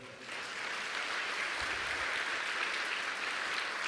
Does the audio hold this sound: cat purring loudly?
no